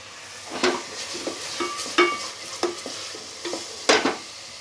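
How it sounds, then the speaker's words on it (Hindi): Onions fry in a pan and get stirred now and then, a soft steady sizzle under repeated sharp scrapes and knocks of a spoon against the pan, close by. "बीच बीच में प्याज को भी चलाते रहना है।"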